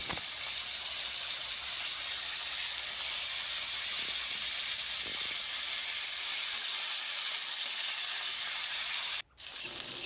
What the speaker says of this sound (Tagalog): isa-isang ilagay yung chicken wings para iprito